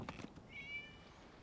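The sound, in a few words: cat meowing in Genshin Impact video game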